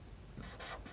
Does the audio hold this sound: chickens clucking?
no